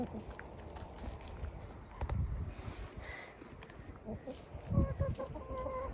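Chickens cluck and squawk in agitated bursts, with a few sharp calls standing out over rustling background noise.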